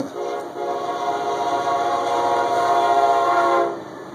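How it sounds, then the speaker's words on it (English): A passing train rumbles steadily and loudly, its horn holding a sustained tonal blast for several seconds before the sound drops away, heard outdoors near a crop circle in Wiltshire. "And I got a train coming."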